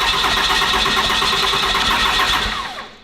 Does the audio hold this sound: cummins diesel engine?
yes